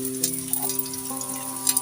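Chicken sizzles and fries in hot oil in a pan, a steady crackling hiss with small pops throughout and a faint tonal hum underneath.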